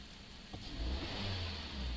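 A Suzuki SX4 engine idles low with a slight misfire stumble, a steady close rumble with a faint hitch partway through, heard alone without talk.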